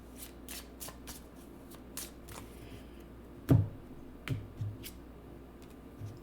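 Tarot cards handled and shuffled in a quiet room, a few soft riffling flicks with one sharper slap of a card set down, fairly close and low in level.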